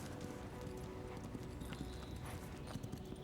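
Horse hooves clip-clop at a steady walking pace, faint and somewhat distant, with soft ambient noise underneath.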